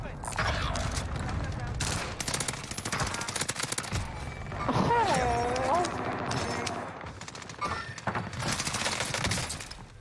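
Rapid bursts of automatic gunfire in the Rebirth Island battle royale shooter crack repeatedly throughout, dense and fairly close, with a player talking over part of it.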